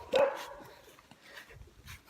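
A dog barks once sharply up close, followed by quieter low whimpering and snuffling sounds, with no talk.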